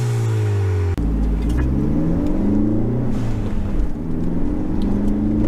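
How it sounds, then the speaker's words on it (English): A Ford Focus ST on lowered springs with a Mountune catback exhaust and a Boomba blow-off valve revs up, its engine rising and holding in a loud, sustained drone with shifting pitch, close to the car. "Also put a mount-tuned catback system on it, so it sounds really good."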